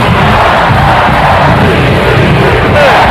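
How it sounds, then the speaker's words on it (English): Football stadium crowd roaring at a Pirates game, a dense, loud, sustained wall of voices with no breaks. "The roar of the crowd."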